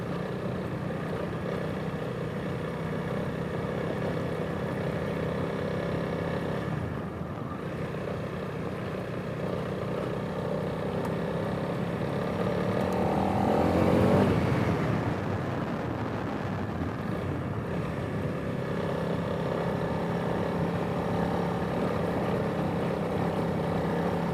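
Honda CRF300L dual sport motorcycle riding forest service roads, a steady engine drone with a brief rise in revs midway, continuous and moderately close under wind, with no speech.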